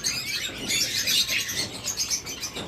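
Pet doves and lovebirds kept for sale chirp and tweet continuously in a dense, bright chatter at moderate volume, with soft cooing underneath and no voices.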